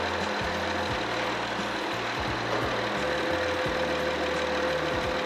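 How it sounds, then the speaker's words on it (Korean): A 3.5-litre fourth-generation Honda Odyssey engine idles steadily up close in the open engine bay, a low, even rumble with a faint whine above it and no voices. "엔진 소리 일정하고 좋습니다."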